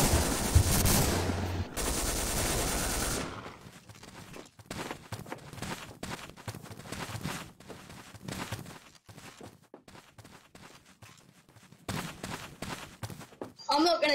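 Repeated gunfire from a shotgun in the video game Codename CURE, loud bursts at the start, then a stretch of quieter scattered shots and clatter with voices talking over the action.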